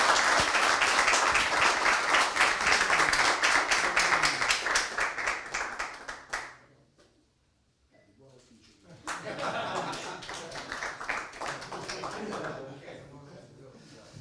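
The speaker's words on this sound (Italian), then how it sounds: "Beh, un applauso" Applause from a crowd at a presentation of the AS Roma futsal team: dense, steady clapping for about six seconds fades almost to silence, then lighter clapping returns, mixed with chatter and voices.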